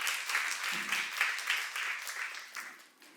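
A church congregation claps in a thin, steady patter of applause at moderate distance, fading toward the end.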